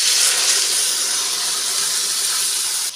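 A loud, steady sizzle and hiss rises as boiled moong dal goes into a hot pan of fried fish heads and spices, a continuous bright crackle that holds for a few seconds before cutting off abruptly.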